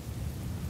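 Storm thunder in the video game One Piece Pirate Warriors 3, a short burst of dense low rumble mixed with rain-like hiss, loud and continuous.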